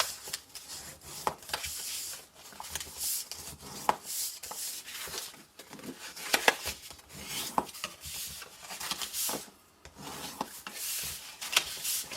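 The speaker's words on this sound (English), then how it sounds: "There's my bone folder. There we go. So burnish all your score lines." Bone folder burnishing score lines on paper for a lidded box, giving a series of short, close scraping rubs in irregular bursts, fairly quiet and with no talking.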